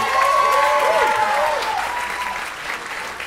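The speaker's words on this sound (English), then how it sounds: "clap it up right now" Audience applause fills a stand-up comedy show at the Laugh Factory in Chicago, with dense, loud clapping and crowd noise running steadily throughout and easing slightly toward the end.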